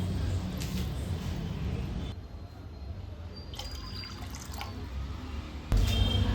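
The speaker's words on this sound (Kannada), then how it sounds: "1/4 ಕಪ್ಪಷ್ಟು ನೀರು ಸೇರಿಸ್ಕೊಳ್ತೀನಿ." Water poured into a pot heating on the stove while making adike puttu dough, a Coorg Puthari festival dish; a steady liquid trickle and splash runs throughout, close and fairly loud, with a brief clatter near the end.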